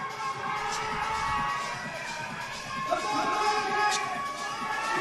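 Spectators at the British Boulder Championships finals at the Depot Climbing centre cheer and roar in a steady swell of crowd noise, heard under a commentator's voice.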